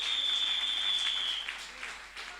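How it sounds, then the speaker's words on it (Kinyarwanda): Church congregation applauding together during a worship service, a steady wash of clapping that fades slightly toward the end, with a faint sustained tone over the first part. "natwe mureke tuyikomera amashyi menshi cyane"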